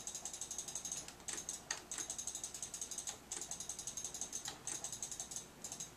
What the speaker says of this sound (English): There's a lot of mouse clicks going on over here.